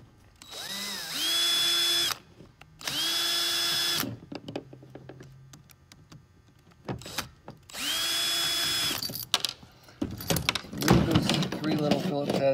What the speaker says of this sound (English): you want to remove the three little screws here that hold the light socket on